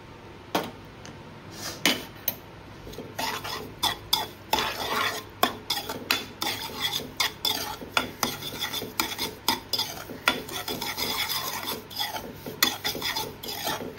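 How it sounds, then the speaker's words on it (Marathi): Semolina roasting in ghee over a low flame, stirred with a spoon against the pan: repeated sharp scraping strokes in an uneven rhythm over a faint sizzle, close and fairly loud throughout. "रवा व्यवस्थित भाजून देऊ स्लो गॅसवर।"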